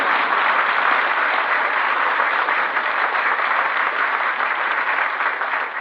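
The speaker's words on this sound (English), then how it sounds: "You can clap now if you want to." A studio audience at an old-time radio comedy show breaks into steady, dense applause that holds at full strength for several seconds with no voices over it.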